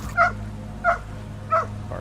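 Three short, high barks from a scent-search dog barking at water, evenly spaced about two-thirds of a second apart, over a steady low hum of background noise.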